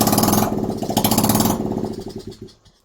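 1969 Honda Z50 motorcycle's small engine running loud and close, a fast pulsing putter that revs up, then slows and dies away to silence.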